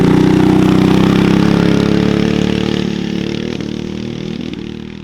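Trailmaster Mid XRX-R go-kart with a 196 engine rev during a peel out, a loud sustained droning engine note with induction and exhaust sound that gradually fades as the kart pulls away.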